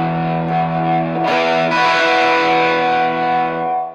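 An electric guitar rings out through a handmade distortion pedal, loud sustained distorted chords with a brief change near the middle, then a long ringing decay.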